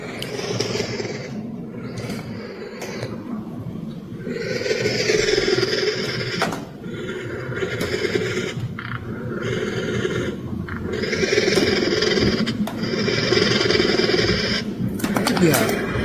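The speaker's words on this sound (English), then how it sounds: "This is the sound of a baby roadrunner trying to get fed by his mother" A baby roadrunner begs to be fed by its mother with harsh, rasping squeals repeated in rough bursts, loud and close, continuing almost without pause.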